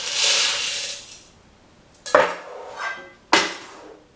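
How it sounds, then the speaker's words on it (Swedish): Dry pasta pours into a metal solar-cooker pot in a steady rattling hiss for about a second and a half, followed by two sharp metallic clanks of pot or lid. "Pastan ner i kastrullen."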